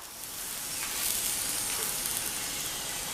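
A flipped paratha sizzles on a hot pan with a continuous bright, hissing crackle, steady and close throughout, with no voices over it.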